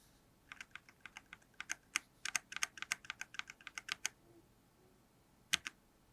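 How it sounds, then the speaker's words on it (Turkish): Soft, rapid clicking of a quiet red-switch mechanical keyboard, a steady flurry of muted keystrokes that stops, then one last tap after a pause. "Oldukça sessiz bir kırmızı switch kullanılmış burada."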